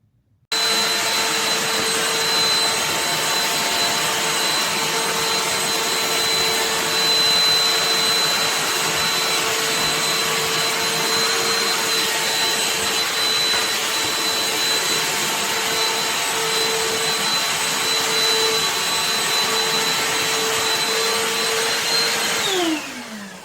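A Black+Decker Dustbuster 20V cordless handheld vacuum switches on and runs with a loud, steady high-pitched whine and airy roar for over twenty seconds, then winds down at the end, no talking.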